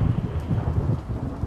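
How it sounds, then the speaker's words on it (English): A thunderstorm roars with dense rain and low rumbling thunder, loud and close, continuous and without voices. "The earth quaked and a big thunderstorm started."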